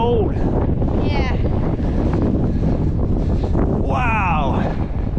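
Strong, cold wind buffets the microphone on a coastal trail in New Zealand, a constant roaring rush with voices speaking briefly over it.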